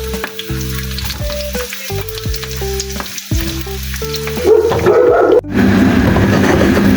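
Sliced onions and eggs fry in a home kitchen pan, with a loud, close sizzle that swells after an opening stretch of background music and keeps crackling steadily.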